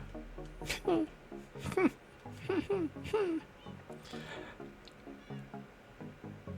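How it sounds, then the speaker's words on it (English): Several Minecraft cats meow in a row, a handful of short rising-falling calls close together, loud and near, over game background sounds and bits of speech from a multiplayer survival world. "we appear to be still suffering from an invasion of cats"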